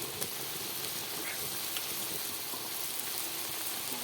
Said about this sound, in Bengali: বাকি ফ্রেঞ্চ ফ্রাইগুলোকে আমি একইভাবে ভেজে নেব একদম ছাঁকা তেলে।